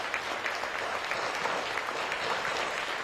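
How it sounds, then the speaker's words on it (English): A crowd at a Taiwanese foreign ministry New Year reception applauds the president, producing an even wash of clapping that holds steady throughout, heard from a distance and fairly quiet. "give our president a big round of applause"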